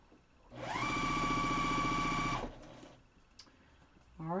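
Quilt pieces are chain-fed through a sewing machine in one quick two-second burst of fast, even stitching, close and loud, then stopping; a voice briefly starts at the end.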